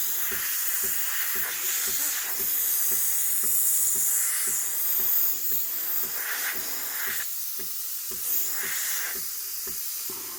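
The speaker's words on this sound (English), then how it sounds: "then starting to steam the milk." Steam wand of a Breville Infuser BES840 espresso machine steaming milk, a loud continuous hiss with a fast regular ticking pulse beneath it and periodic brighter surges as the milk is frothed.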